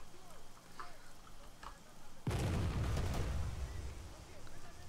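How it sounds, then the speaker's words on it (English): Mortar artillery fire in Arma 3, one heavy close blast that sets off a long rumbling roar after a quieter stretch of ambient game sound. "So let's go ahead and put some mortars coming in."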